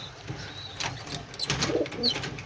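Soft pigeon coos rise and fall amid a busy background, several low calls overlapping close by with faint rustling.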